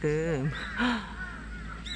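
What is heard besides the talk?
crows cawing while flocking to dogwood fruit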